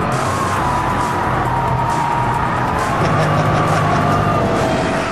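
A 2007 Shelby GT500 driven hard with oversteer, its V8 engine roaring loud and steady from inside the car, pitch rising and falling through the corner, with no talking.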